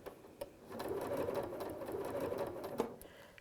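A sewing machine stitches in the ditch on a quilt, its needle running in a steady, close, moderately loud rhythmic whir that starts after a couple of brief clicks and continues alone.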